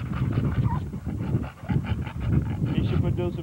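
A 14-month-old red nose dog named Hotball pants rapidly and loudly up close, quick rhythmic breaths with a brief pause midway and a faint whimpery note near the end.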